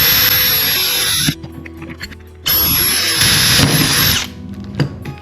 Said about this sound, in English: And we're just going to drill a hole